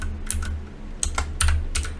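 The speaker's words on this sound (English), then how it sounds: "So the first command we're going to type is aerodump" Typing a command on a computer keyboard, a few sharp, close key clicks in short irregular clusters with quiet gaps between.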